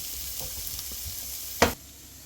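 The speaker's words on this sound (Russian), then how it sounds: "добавляем морковь. И также ее немного обжариваем" Steady low sizzle of carrots and onion frying in a pan, with a soft clink partway through and a brief louder scrape near the end.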